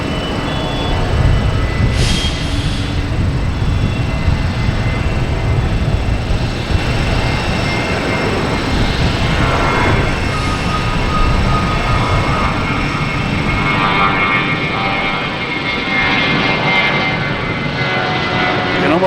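An Airbus A319 taking off at Boston Logan Airport, its engines a loud, sustained broadband roar with a steady tone that continues throughout, heard from a distance outdoors, no talking.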